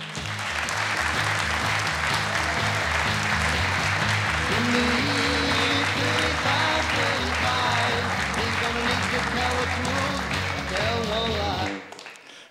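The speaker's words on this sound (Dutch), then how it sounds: "een hartelijk applaus voor Carlo Beenakker" A lecture hall audience at a science talk gives sustained, dense applause for a physicist taking the stage, steady and loud throughout before stopping abruptly at the end, with walk-on music faintly underneath.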